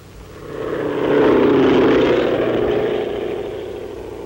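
A propeller airplane passes overhead in a 1942 US Army training setting, its engine drone swelling to a loud peak and then slowly fading away.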